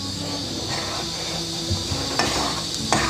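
Halva roasts in homemade oil in a pan, producing a steady close sizzle and hiss with a few faint stirring scrapes and knocks and no voices.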